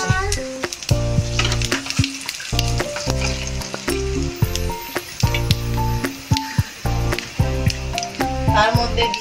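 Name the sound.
dried chili, cumin and bay leaf sizzling in hot oil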